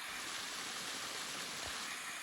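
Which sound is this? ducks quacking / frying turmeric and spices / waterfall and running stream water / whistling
waterfall and running stream water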